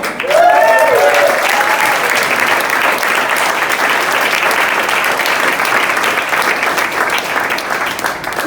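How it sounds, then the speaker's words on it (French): Sustained applause from a large audience at a baptism service, steady and loud throughout, with a few faint whistles or cheers near the start. "J'aimerais qu'on puisse accueillir et applaudir Yann et Axel qui viennent du Costa Rica"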